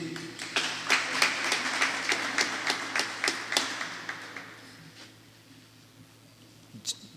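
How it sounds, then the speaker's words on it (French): Sparse, loud claps at a school closing ceremony come as a rhythmic burst that thins out and fades after a few seconds, followed by near quiet and a single late clap. "Applaudissez."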